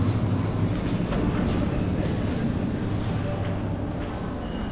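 At a railway station in Bangalore, India, a train gives off a continuous, fairly loud rumble and clatter, with a few sharp metallic clicks and squeals over a dense, steady bed of noise.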